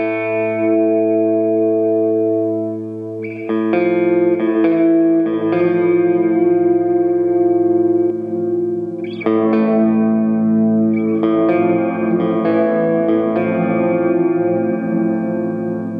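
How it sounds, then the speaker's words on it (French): A Walrus Audio Slö multi-texture reverb pedal with its Arc function adding an octave, washing an electric instrument into shimmering, sustained reverb; chords swell in three loud waves and bloom into dense ambient tails with no voice. "on commence avec la fonction d'arc qui va ajouter une octave"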